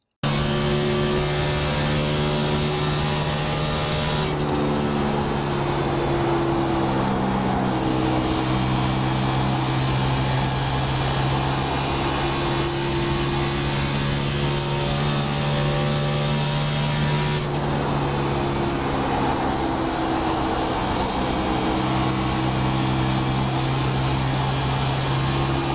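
A race car engine drones loud and steady through a lap of the Texas oval in the iRacing video game, its pitch rising and falling through the corners and gear changes, with no talk over it.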